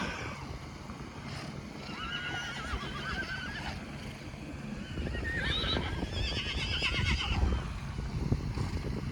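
Several free-grazing horses whinny and neigh at moderate distance by a water pump on pasture, their calls overlapping over a low outdoor rumble, with no talking.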